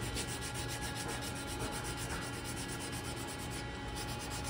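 Sandpaper worked by hand over a wooden flintlock rifle stock, a continuous even rubbing hiss with faint regular strokes, close and steady, no speech.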